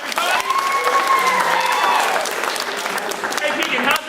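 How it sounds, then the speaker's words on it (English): A crowd applauds steadily and fairly loudly for about four seconds, with a few scattered cheers mixed into the clapping. "give them one more round of applause, everybody"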